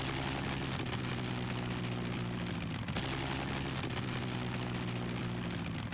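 Green Spirit 4, a racing powerboat fitted with two Rolls-Royce Griffon engines, running with a steady, loud, droning engine roar and a deep throbbing hum that continues unbroken.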